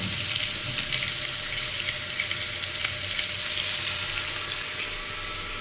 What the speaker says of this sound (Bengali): পটল এখানে ভাজা বসিয়ে দিয়েছি